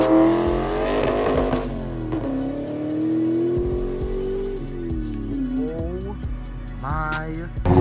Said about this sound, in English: That is the worst sounding vehicle I've ever heard. It's got a Big turbo.